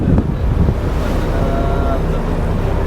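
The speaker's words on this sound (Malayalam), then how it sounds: "ചിലപ്പം കുറച്ച് കാറ്റും കോളുള്ള ദിവസമാണ് ഇന്ന്." Wind and waves on a rough sea aboard a deep-sea fishing boat out for mackerel, a steady loud broadband roar of gusts and surf with constant wind buffeting the microphone throughout.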